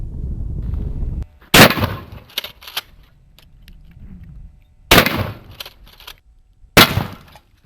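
12-gauge shotgun shots strike a steel plate target: three loud, sharp blasts with ringing metallic decay, spaced several seconds apart, close by, after a low rumbling start and with no talk.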